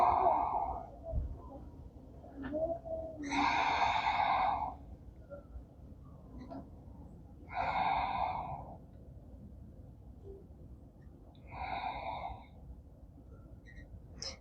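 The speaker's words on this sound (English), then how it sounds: "Take deep breaths." Deep, slow breaths during a yoga child's pose, three long airy exhalations spaced several seconds apart, close and soft, with a short quieter breath before the first.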